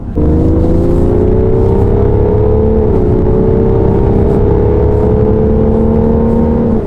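A BMW X3 M40d diesel SUV pulls hard under acceleration, its engine note climbing steadily with a brief dip at a gear change before rising again, loud and continuous over road and wind roar, no talking.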